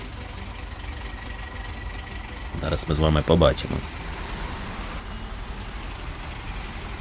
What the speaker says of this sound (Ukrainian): Сподіваюсь, що мій тракторець доволоче ці колоди додому